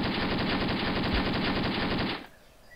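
A single sustained burst of rapid automatic gunfire from a gun in the war game Graviteam Tactics, loud and close, running about two seconds before cutting off abruptly.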